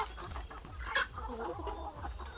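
Plucker and Aseel crossbred gamecocks cluck softly and continuously at a distance, low murmuring calls over a faint background hum.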